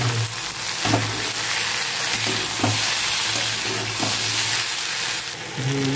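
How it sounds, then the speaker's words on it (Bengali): Ginger paste fries loudly in a pan for a rohu fish curry: a dense, constant sizzle up close, with a low steady hum underneath and occasional stirring knocks. "আদা বাটাটা দিয়ে দেবো, ভালো করে ভেজে নেব"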